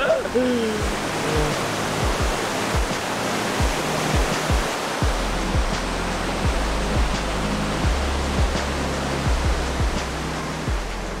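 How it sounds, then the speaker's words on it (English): Raging river rapids along the Hooker Valley Track in New Zealand roar as a loud, continuous broadband rush of white water, with occasional low thumps and faint voices beneath. "It is a bit nerve-wracking being in the middle above raging rapids."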